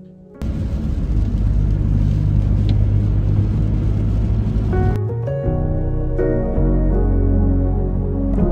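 A car rolls in with a loud, close engine rumble that holds steady for several seconds, then drops to a lower idle with tonal hum as it pulls up.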